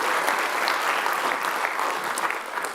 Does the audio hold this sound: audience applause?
yes